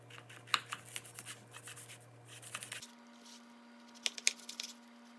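A knife cuts through a pineapple on a board, quartering it, with soft scraping and a few sharp tapping impacts spread across the moment, recorded close and quiet over a steady electrical hum.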